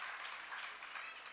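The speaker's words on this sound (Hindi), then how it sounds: "देखो महाराज जी ताली बजा रहे" Faint, steady applause from an audience at a Hindi spiritual discourse, a dense patter of many hands clapping continuously without pauses.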